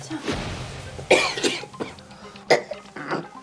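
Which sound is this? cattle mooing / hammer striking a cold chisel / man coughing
man coughing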